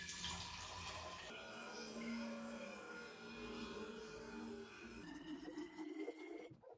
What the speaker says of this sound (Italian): acqua filtrata tramite la brocca Brita, quindi andiamo a riempire la bottiglia